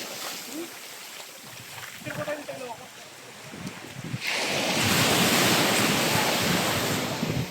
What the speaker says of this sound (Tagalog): Grabe ang hampas ng alon eh.